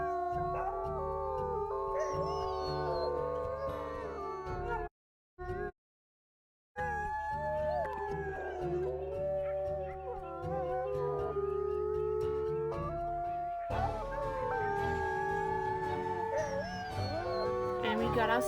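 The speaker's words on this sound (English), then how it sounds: "I did the victory howl to end off Young Hunters." Wolves give a drawn-out victory howl in the WolfQuest video game, with long, wavering tones layered over game music. The sound cuts out in a brief silent gap midway, then the howling swells again.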